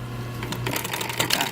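A sewing machine back stitches a quarter-inch seam on a car headrest cover, a short burst of rapid close mechanical ticking and clatter.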